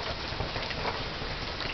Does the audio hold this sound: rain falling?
yes